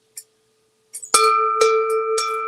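A clear bell struck three times outdoors in nature at sunset, each strike ringing with a sustained metallic tone that overlaps the next, after a few faint clicks, with no talking.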